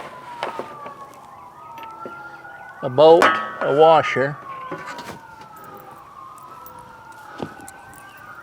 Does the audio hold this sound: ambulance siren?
yes